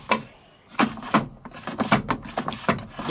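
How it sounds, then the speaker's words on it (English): A plastic detergent drawer slides out of a 15-year-old LG DirectDrive 8kg F1222TD washing machine, making a series of close, sharp clicks and rattling scrapes in irregular bursts with no talking. "Pull the drawer out."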